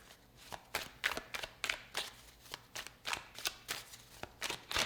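Tarot cards shuffled by hand in a quick, rhythmic series of crisp riffling slaps, close and clear with no talking.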